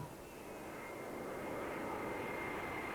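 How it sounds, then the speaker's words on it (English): A continuous roar of an airplane overhead, steady and broad, swelling slightly over a few seconds with no voices. "roar of airplanes"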